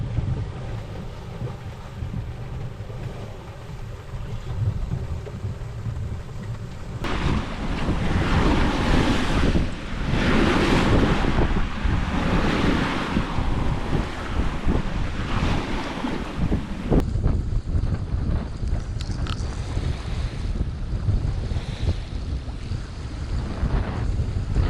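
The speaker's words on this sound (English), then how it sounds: "Squall here. Actually, you know, I'm kind of getting pelted." A squall at sea on Christmas Eve batters a boat with roaring wind gusts and crashing waves, loud and continuous, swelling stronger in the middle and buffeting the microphone.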